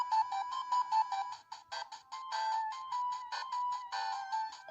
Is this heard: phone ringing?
yes